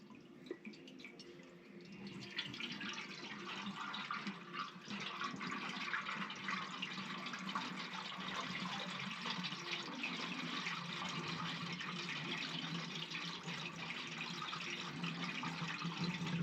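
Water poured steadily into a reassembled tinker bell to check it for leaks, a continuous close splashing and trickling stream that keeps going from start to finish with no talk.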